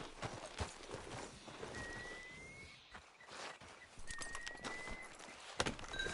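Horse hooves clip-clop at a steady walking pace in the Red Dead Redemption 2 video game, faint and moderately close, with a couple of thin whistling tones and no talk.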